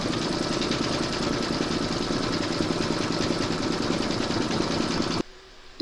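Embroidery machine stitching a paw print coaster design in a hoop, a rapid steady mechanical stitching chatter heard close up for about five seconds before it stops abruptly into near silence.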